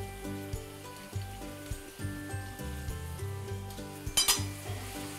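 A spoon stirs spring onions, tomato and mixed herbs sizzling in a pan for Indian-style cheese penne pasta, with soft scraping and clinks over steady frying, plus a brief louder clatter near the end.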